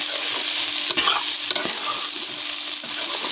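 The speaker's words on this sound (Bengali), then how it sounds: "আবার আমি ভালো করে নেড়ে দিলাম।" Jackfruit curry sizzles and fries in a pan as a spoon stirs it, with a steady bright hiss and a few soft scraping strokes, close up and without speech.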